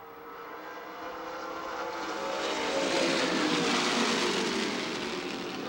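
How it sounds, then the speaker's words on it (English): Vintage race cars, a Chevy Camaro among them, thunder past on the Milwaukee Mile oval during an IMCA vintage race, engine roar swelling as they approach and fading slightly away. "Chevy Camaro charging on the outside into the 2nd spot"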